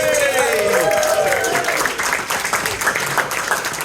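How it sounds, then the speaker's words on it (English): A charity event audience breaks into sustained applause with whoops and cheers, a steady loud wash of clapping that tapers slightly toward the end. "give these guys one more big round of applause"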